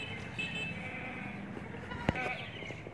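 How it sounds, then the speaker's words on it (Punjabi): A goat bleats at a buffalo shed in a village near Jalalpur Jattan, Punjab, giving a short, fairly quiet call early on, with a sharp knock later over soft farmyard background noise. "ਬੱਕਰੀ ਵੀ ਆ ਗਈ ਨੀਲੇ ਦੇ ਨਾਲ"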